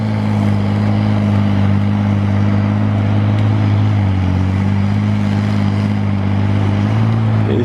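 A 6.7 liter Cummins diesel in a Tigercat 635D skidder with ten large tires labors under heavy load, a loud, close, steady drone with slight dips and rises in pitch as it pulls.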